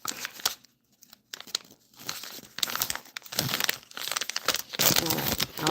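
Package of tea bags being opened by hand, with sharp crinkling and tearing of the wrapper in uneven bursts, close and fairly quiet.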